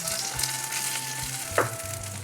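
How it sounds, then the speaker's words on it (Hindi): Besan tikki fry in oil in a pan, making a steady close sizzle with a brief crackle flaring up near the end. No one speaks. "मैंने इसकी साइड बदली है। साथ ही मैं थोड़ा सा ऑयल भी ऐड कर दूंगी पैन में, ताकि इस तरफ से भी अच्छे तरीके से फ्राई हो जाए।"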